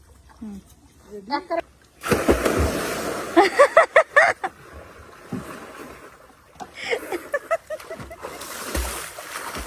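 A person jumps into a pond with one loud, close splash followed by sloshing water, while several people talk and laugh around it.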